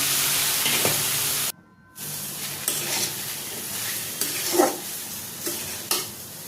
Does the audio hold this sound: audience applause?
no